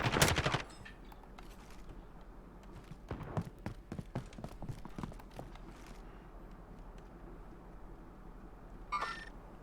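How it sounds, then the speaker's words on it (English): Gunfire in a team shooter video game: a loud opening burst, then a string of rapid single shots and scattered fainter reports over a steady background hum. "I'm gonna try to get some shots off on these guys."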